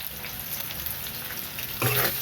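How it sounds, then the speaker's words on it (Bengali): Boiled potato and taro frying in a pan with salt and turmeric, giving a steady close sizzle that grows louder and denser near the end, with no talk. "এবার আমি এই সিদ্ধ করা আলু আর কচুটা দিয়ে দেবো। একটু লবণ দেব, একটু লবণ দিলাম, আর হলুদ দিয়ে এটা ফ্রাই করে নেব একটু।"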